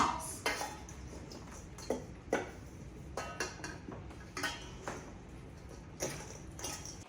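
Chicken Caesar pasta tossed with croutons and Parmesan cheese in a bowl, with soft, irregular clinks and scrapes of utensils against dishware, fairly close and moderately quiet, and no talking.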